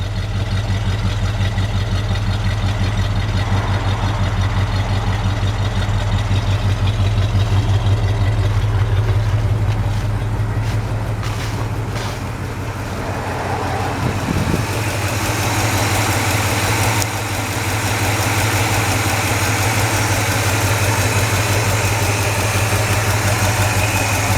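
A 1972 Ford F100 engine idling through true dual exhaust, a loud, steady low rumble close by that holds evenly throughout, dipping slightly once midway before settling back to the same deep idle.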